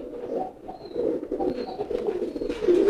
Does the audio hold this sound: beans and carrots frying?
no